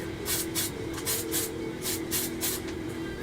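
Spray paint hisses in short repeated bursts as model kit parts for a 1/48 Hasegawa F-22 Raptor are coated black, each puff close and steady over a faint background hum.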